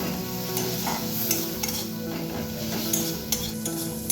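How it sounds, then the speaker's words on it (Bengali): Spices including Kashmiri red chilli powder fry on a low gas flame, a steady close sizzle with rhythmic scraping stirs and occasional sharp spatula taps against the pan. "সবটাকে খুব ভালোভাবে কষিয়ে নেব"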